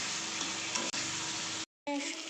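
Tomato and vegetables sauté with spices in a hot pan for a Bangladeshi-style dried-fish curry, giving a steady close sizzle and stirring that stops for a brief moment before the sizzle returns.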